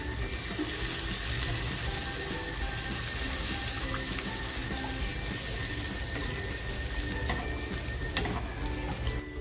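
Water poured into a pan for a fasting kat curry, a steady broadband rush that runs unbroken and fairly loud, with faint sizzling from the pan beneath it and no one talking.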